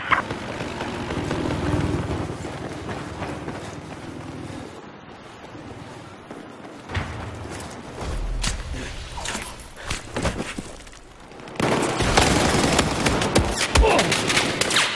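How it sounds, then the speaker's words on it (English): Heavy gunfire and explosions from a Battlefield 4 firefight, loud bursts of rapid shots and booms over a constant rumble, with a brief quieter lull midway before the shooting swells again. "I'm taking heavy fire."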